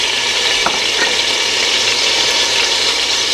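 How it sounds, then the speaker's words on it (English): Crushed garlic, about two cloves, sizzling in a hot pan, a steady broadband fry with a couple of brief stirring clicks, close and fairly loud with no talking. "I'm going to add about 2 cloves of crushed garlic"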